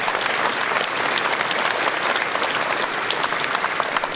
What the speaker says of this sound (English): Round of applause, I think, yeah.